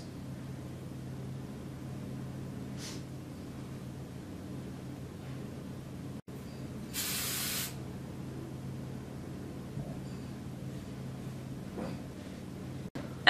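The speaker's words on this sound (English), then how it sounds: "And then once you get your bun to your liking, then just hairspray it." A single short burst of hairspray hisses onto a hair bun, a brief aerosol spray over a quiet room tone with no talking.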